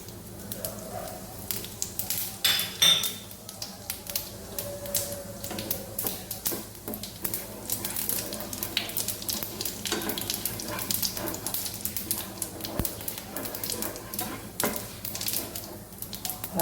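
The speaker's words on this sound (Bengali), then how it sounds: "ফোড়নের জন্য যে জিরে মৌটা রেখেছিলাম" Cumin seeds frying in hot oil for tempering a besan capsicum stir-fry, a soft continuous sizzle with light crackles and scattered utensil clinks, fairly quiet and close.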